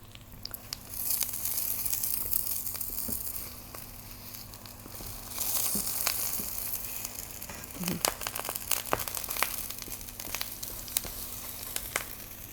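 Eggplant frying in a pan: a low steady hiss with scattered pops and crackles, close by, sometimes faint background movement.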